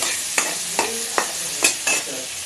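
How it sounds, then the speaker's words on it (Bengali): Potatoes sizzle softly in a frying pan as a utensil scrapes and stirs them in five quick strokes over a constant light hiss. "হালকা ভেজে নেব।"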